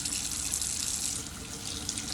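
Tap water runs steadily into a sink while a makeup brush is rinsed, a continuous bright hiss and splash, close and even, with no talking.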